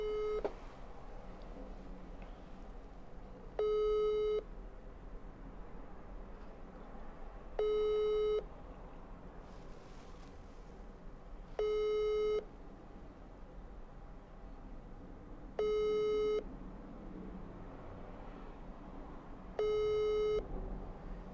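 A telephone busy signal on a call to Moscow repeats six clear, evenly spaced tones, each lasting about a second, over a steady low hiss.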